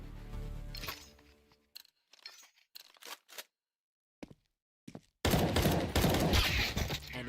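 Bursts of gunfire in a competitive shooter video game match, with dense rapid shots at the start, then scattered single cracks and gaps of silence, ending in a loud sustained volley.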